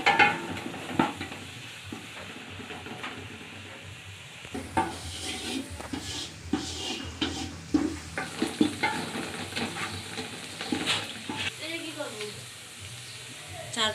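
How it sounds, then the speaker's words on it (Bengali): Chopped onions fry in oil in a pan for a home-style chicken pulao, a steady sizzle broken by the clatter of stirring utensils against the pot, with some quiet voice sounds in the background. "পেঁয়াজটা হালকা বাদামি করে ভেজে নেব।"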